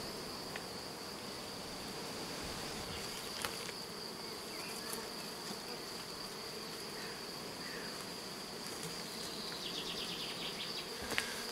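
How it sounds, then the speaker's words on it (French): Honeybees returning from foraging to a mini-plus hive buzz in a steady, faint drone, with a few louder passes near the listener and occasional small clicks. "les abeilles qui rentrent de butinage vont se mettre dans la mini plus"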